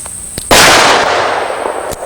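A single sharp, loud revolver shot from a short-barreled Wesson handgun, with a sudden crack that decays over about a second and a half outdoors, preceded and followed by faint clicks.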